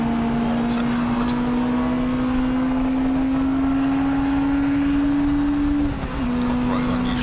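A saloon race car from the CSCC Tin Tops series goes by on Silverstone's National circuit, its engine a steady loud drone that climbs slowly in pitch, then dips briefly near the end, with crowd murmur underneath.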